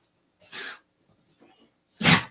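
Two short, sharp sneezes from a dog, close by, separated by a pause with a faint snuffle in between.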